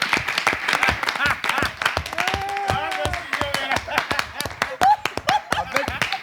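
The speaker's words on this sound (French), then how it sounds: "Les applaudissements que vous entendez, ça, c'est pas nous du tout." A studio audience bursts into dense applause and clapping during a French entertainment show segment, loud and steady throughout, with voices talking over it.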